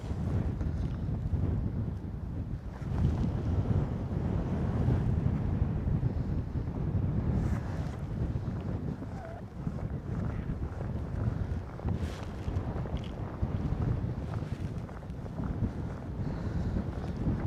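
Cold wind buffeting a microphone on a boat out on deep water while catfishing, a steady low rumbling roar that carries on throughout with slight gusting swells.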